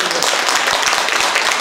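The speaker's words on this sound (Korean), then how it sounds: "우리 모두 감사의 큰 박수 드립니다" An audience at a talk concert applauds in a brief, dense, even wash of clapping, loud and continuous throughout.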